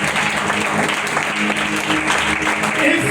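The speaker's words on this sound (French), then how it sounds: "Je voudrais qu'on acclame le nom du Seigneur pour la vie de notre papa, le pasteur Juste Papa." Church congregation applauding during a worship service, a steady dense wash of clapping filling the whole stretch, close and fairly loud, with some voices mixed in underneath.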